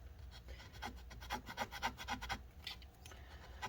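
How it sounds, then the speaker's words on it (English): A tool scrapes old battery adhesive inside a mid-2017 13-inch MacBook Pro A1708, producing a quiet run of rapid rasping strokes that bunch together, pause briefly, then resume. "So as you can see, scraping this stuff, it's not really wanting to come out."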